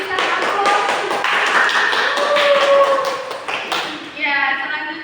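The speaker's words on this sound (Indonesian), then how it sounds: "Berikan aplaus." A classroom bursts into brief, lively clapping that lasts a few seconds, with voices mixed in, before a speaker carries on talking.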